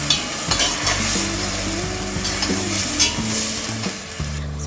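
Onions with mint and coriander paste frying loudly in a pan for soya mint pulao, a close, steady sizzle with stirring scrapes and utensil knocks throughout, no talking.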